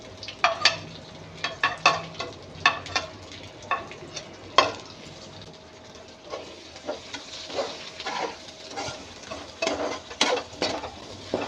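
Chopped vegetables and finely cut green chillies sizzle in a pan while being stirred, with frequent scraping, clattering strokes over a steady frying hiss, close up and without talk.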